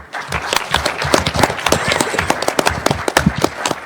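A conference audience applauding the J Street staff, loud, sharp claps with individual hand strikes standing out in an uneven, fairly close rhythm that runs without pause.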